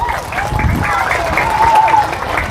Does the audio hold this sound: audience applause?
yes